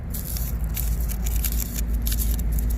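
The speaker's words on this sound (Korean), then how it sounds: "이게 종이 소리 들리죠." Dry, papery rustling and crinkling as delicate paper flower petals are handled up close at a flower market, a continuous soft crackle over a low steady hum.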